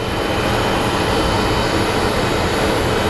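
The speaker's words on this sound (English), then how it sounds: "Southwest Airlines 2637 coming in from Portland. It is a 4-year-old" A four-year-old Southwest Airlines Boeing 737 arriving from Portland at Phoenix Sky Harbor roars steadily as a loud, close, broadband jet engine rush, with no voices over it.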